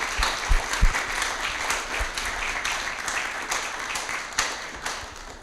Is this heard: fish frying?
no